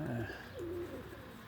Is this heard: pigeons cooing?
yes